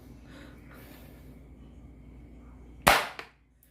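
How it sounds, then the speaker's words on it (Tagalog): Glock 17 spring-type airsoft pistol shot into a thin cardboard box, a single sharp crack with a brief rattling tail against a quiet room background. "Bali ganyan yung mechanism ng spring type airsoft pistol. Kada ipuputok mo siya, ikakasa mo."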